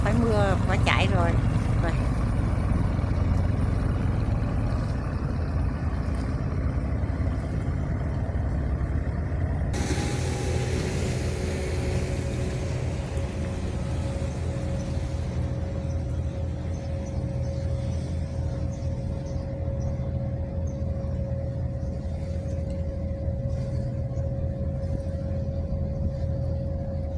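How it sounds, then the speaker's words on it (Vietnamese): A small fast boat speeds along the Chợ Gạo canal as rain approaches, its engine a steady, loud drone with water noise running throughout, a higher whine joining midway; someone talks over it. "Ghe nhỏ chạy thật là nhanh luôn, chạy tách nước luôn à"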